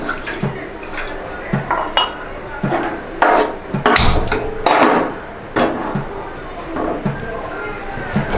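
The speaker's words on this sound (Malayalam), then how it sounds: "ഇനി ആവശ്യത്തിന് വെള്ളം ഒഴിച്ച് നമുക്കിത് വേവിച്ചെടുക്കാം." Water is poured into a pan of mango pieces for cooking mango kalan, a Kerala-style curry: splashing and clinking of the pan and utensils come in short bursts, close up, with no talk.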